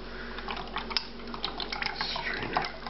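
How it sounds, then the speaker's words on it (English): Lamb confit cooking fat pours through a strainer in a kitchen, a close, steady trickling and dripping of liquid lasting a few seconds with no talk. "Pour the fat that the lamb was cooked in."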